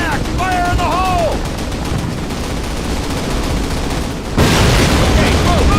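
Explosives detonating on a German flak panzer during the D-Day battle in Call of Duty (2003): dense battlefield gunfire and rumbling blasts throughout, with a sudden loud detonation near the end, under shouted voices.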